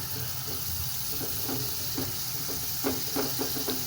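Minced meat frying in a pan on a medium flame, a steady broad hiss and sizzle with small crackling pops and a few utensil scrapes near the end.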